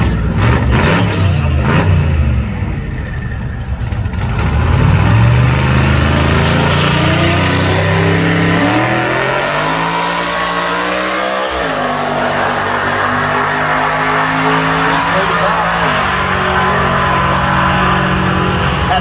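Drag racing car doing a burnout at Tulsa Raceway Park, a loud sustained engine roar with rising and falling revving pitch that fills the clip, with a crowd-like wash behind it.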